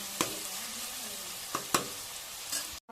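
Ginger garlic paste sizzles loudly and steadily in hot oil for a mutton curry, with a few sharp clacks of a stirring spoon against the pan before the sound cuts off abruptly.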